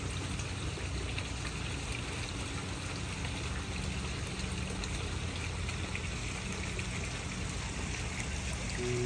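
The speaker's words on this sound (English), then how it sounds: "Sitting by the pond, watching the fish swim" Water trickles steadily at a koi pond outdoors, a continuous soft, hissing splash that stays at an even level throughout, with no voices.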